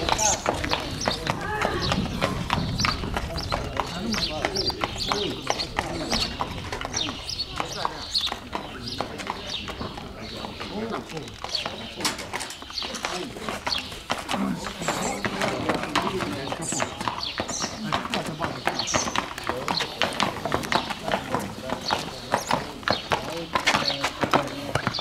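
Horse hooves clip-clopping steadily on a farm in Madaras, Satu Mare, a fairly close, continuous rhythmic clatter running throughout under frequent conversation and background voices.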